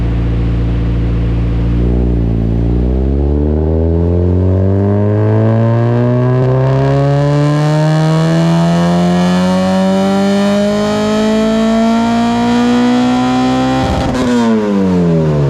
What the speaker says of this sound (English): So here it is on the dyno.